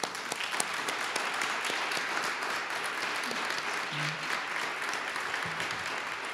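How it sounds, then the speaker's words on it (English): Audience applause at a university alumni honoring ceremony, steady dense clapping filling the whole stretch at even loudness, close and continuous without a break. "let me close today with one more round of applause for Ken and Ellen"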